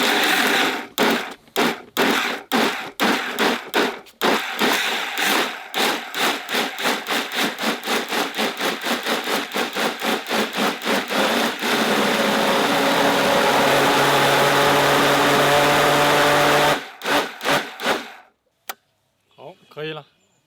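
Food processor grinding fish paste with ice water, a rhythmic series of loud chopping pulses that settles into a steady high-speed whir, then stops, followed by brief clattering.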